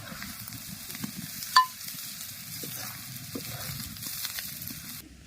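Steady sizzling of neem leaves frying in a pan with oil, with a soft stirring scrape and a brief clink partway through.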